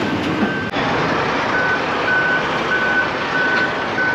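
A Peterbilt truck's reversing alarm beeps steadily in a repeating pattern over a loud, constant engine rumble and broadband background noise.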